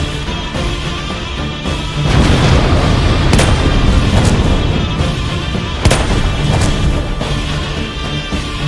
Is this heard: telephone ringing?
no